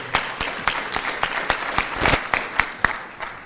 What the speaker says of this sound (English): Let's give them another round of applause for that great work.